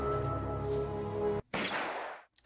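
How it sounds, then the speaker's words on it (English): A single sharp gunshot in a visual novel game cracks out after a sustained tone stops abruptly and a moment of silence follows, leaving a broad burst that fades away quickly. "I squeeze my eyes shut as I hear a gunshot resound through the room."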